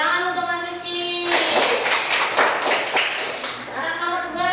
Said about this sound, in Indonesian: Tepuk tangan untuk Mas Rizky.